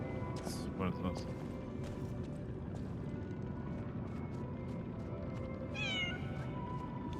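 A cat meows in the Lies of P video game, with two rising, drawn-out meows, one near the start and one near the end, over a low, rumbling game ambience; no speech accompanies it.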